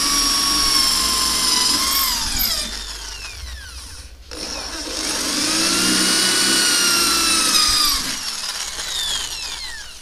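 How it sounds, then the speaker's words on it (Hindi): An electric drill bores a hole with a 6 mm bit while a drawer handle is being fitted, its whine rising and falling in pitch, briefly stopping near the middle, then running again loud and close. "आपको 6 mm वाले बिट से इसमें होल कर लेना है।"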